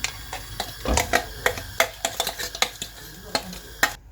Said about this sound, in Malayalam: ഈ എണ്ണയിലോട്ട് നമ്മൾ ഈ അരച്ച് വെച്ചിരുന്ന ഈ ഗ്രേവി അതിലേക്ക് ഒഴിച്ചു കൊടുക്കുക